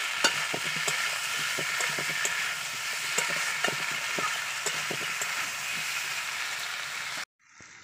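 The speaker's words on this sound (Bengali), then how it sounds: "এই যে মশলা দিয়ে ভালো করে কষানো হয়ে গেছে, এবার আমি টমেটো দিয়ে দিচ্ছি।" Tomato is added to a well-fried spice paste in a pan for a fish curry, giving a continuous sizzle with frequent stirring knocks and scrapes, then a sudden cut to near silence at the end.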